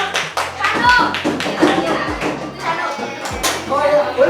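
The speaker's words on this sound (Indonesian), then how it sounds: "Tepuk tangan dulu dong buat siapa?" Several people clapping in bursts at a community service visit, sharp close hand claps mixed with light tapping and a few children's voices and chatter in between.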